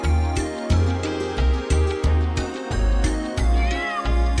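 Cats meowing in the video game Wild Arms 2, a looping series of short synthesized meows repeating in a steady rhythm, loud and close, with no talking.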